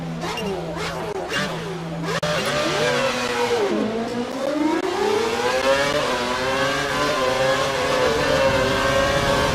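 An F1 2012 race car in the video game accelerates hard to overtake, its engine rising in a long continuous whine after a couple of quick gear changes, loud and close throughout.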